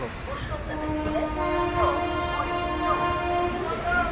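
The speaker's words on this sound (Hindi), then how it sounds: "ये पहुंची अपनी train Deendayal Upadhyay railway station पे" The Saharsa–Mumbai Amrit Bharat Express pulls into Deen Dayal Upadhyaya railway station with a sustained horn tone and steady rumbling, clattering wheel and carriage noise, close and loud throughout.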